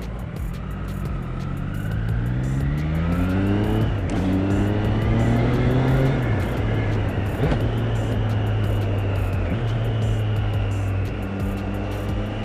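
A Triumph Speed Triple 765 RS motorcycle engine under way on a ride, droning loudly and steadily with rising and falling revs as it shifts through gears, with wind rush over it.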